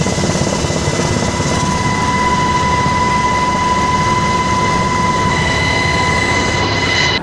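A helicopter flown by the Taliban on patrol over Kabul produces a loud, continuous rotor and engine roar close by, with steady whining tones throughout.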